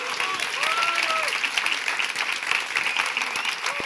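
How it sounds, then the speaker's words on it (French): An audience claps in a dense, continuous burst of applause, with a few whoops and voices rising over the crowd. "vous avez le droit de prendre des applaudissements"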